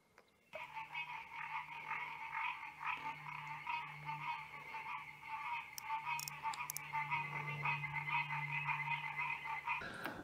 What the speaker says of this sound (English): The frogs let out a chorus of croaks a couple minutes ago.